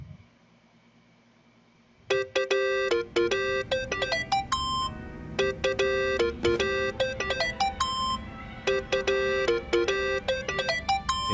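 Mobile phone ringing in Yakuza: Like a Dragon, a bright repeating electronic ringtone that starts abruptly after a quiet moment and keeps playing in steady bursts, loud and close.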